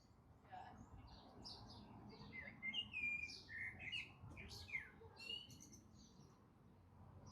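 Birds chirp and tweet outdoors in a string of quick, bright calls, moderately faint against a soft background hum and muffled ambient noise.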